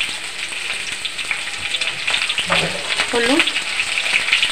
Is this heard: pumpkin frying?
yes